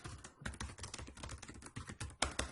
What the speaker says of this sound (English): as I'm typing away